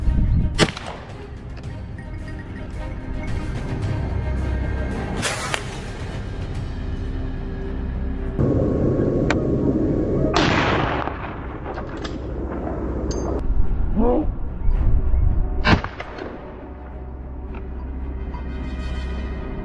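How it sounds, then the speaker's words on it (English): Sharp gunshots crack out during a wild boar hunt, several single reports spread over the stretch, some loud and near, others duller, over a constant outdoor background rumble. "Soon after, gunshots rang out"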